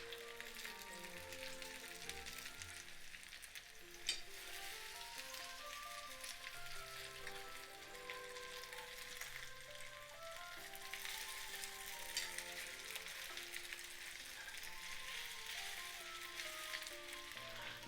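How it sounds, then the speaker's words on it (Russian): Belarusian potato pancakes with meat fry in oil in a pan over low heat, a steady soft sizzle and crackle running throughout with no talking. "буду жарить драники с обратной стороны 10 минут на медленном огне"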